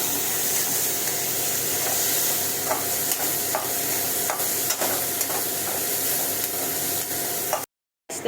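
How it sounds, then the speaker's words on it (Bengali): Chopped onion fries in a pan for chicken roast, giving a loud, continuous close sizzle with occasional stirring scrapes, ending in a sudden brief cut to silence. "পেঁয়াজ কুচিটা দিয়ে ভেজে নিয়ে"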